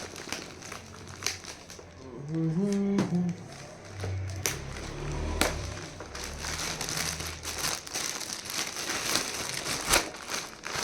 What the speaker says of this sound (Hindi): तो डोरा खेल रही है नीचे पन्नी से